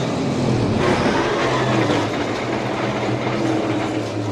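Denny Hamlin's NASCAR Next-Gen car slams hard into the wall at the start-finish line during the Coke 600, heard as a loud continuous roar of racing engines and crash noise, with no voices.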